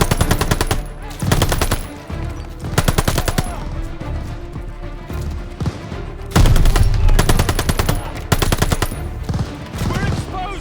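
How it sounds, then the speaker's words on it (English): A machine gun mounted on a half-track fires in the video game Call of Duty: Vanguard. Loud bursts of rapid automatic fire repeat across the clip with brief gaps and scattered shots between them, mixed with other battle noise. "MG on that half track!"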